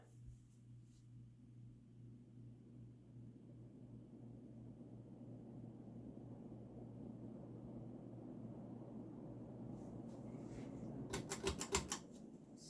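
Emerson Northwind 52-inch hugger ceiling fan running on high, a steady low motor hum with soft airy whoosh, faint and even, with a brief rapid clicking rattle near the end.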